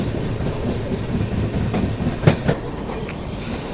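An Indian express train rolls into Barauni Junction in monsoon rain, a steady close rumble of wheels on rails with a few sharp clacks over joints, no voices.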